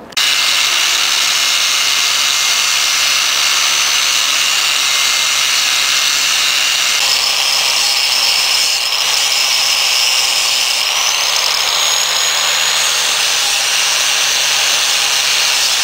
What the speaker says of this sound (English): The only way to get it off is to grind it.